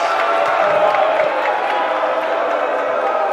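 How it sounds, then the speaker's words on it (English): Crowd at a varsity high school basketball game reacting to an offensive foul call, a loud, sustained roar of voices and jeers filling the gym. "The crowd is not happy about that."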